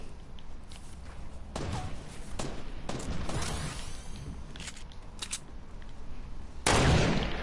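Gunfire in a video game: sharp, separate shots crack out at irregular intervals over a steady background, and a louder blast lands near the end.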